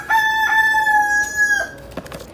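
Rooster crowing nearby, one loud drawn-out call holding a steady pitch before breaking off, followed by a few brief clucks.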